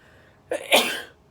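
A single sharp sneeze, a quick intake followed by a loud burst that trails off, close by in a quiet room.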